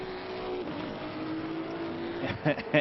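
GT race car lapping Spa-Francorchamps in the Assetto Corsa Competizione sim racing game, its engine droning steadily down the front straight with tire noise, then a couple of louder bursts near the end.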